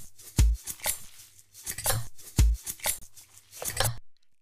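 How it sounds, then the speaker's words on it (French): A knife cuts through a block of butter on a kitchen board, giving two firm, close knocks about two seconds apart with softer scraping and handling noises in between. "C'est moi qui coupe le beurre."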